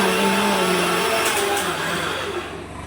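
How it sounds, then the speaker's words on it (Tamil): A mixer grinder whirs loudly and steadily, then its pitch and level ease off toward the end, with no talking. "இப்போ வந்து மிக்ஸி வந்து அரைச்சிக்கலாம்"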